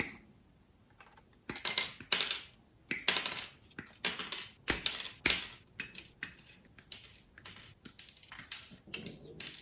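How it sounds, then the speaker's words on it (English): Plastic parts for the front axle of a 1/35 Hobby Boss KrAZ 255B model kit snipped from the sprue, giving sharp, close clicks and snaps in an irregular run with brief pauses and no talk. "So we'll start cutting all the parts up now."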